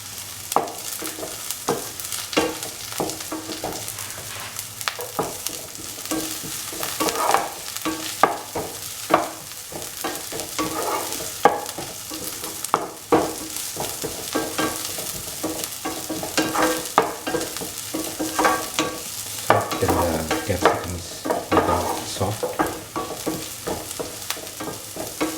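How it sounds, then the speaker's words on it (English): Capsicum sautéing in a hot pan for a black-eyed bean stew, a steady sizzle broken by frequent scraping stirs of the spatula, close and fairly loud throughout with no voices. "Put in the capsicum. And saute."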